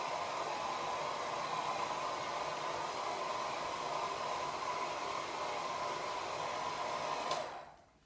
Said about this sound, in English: Second step is dry your hair like this.